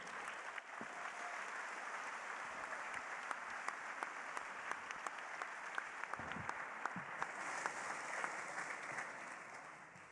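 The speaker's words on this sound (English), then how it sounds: "a big round of applause, a together welcome for Professor Frank Furedi" An audience at an anniversary event gives a long, warm round of applause welcoming a professor, steady clapping from a large crowd with a few sharper individual claps standing out.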